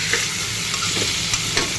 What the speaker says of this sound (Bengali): চিকেনগুলোকে একটু ভাজাভাজি করে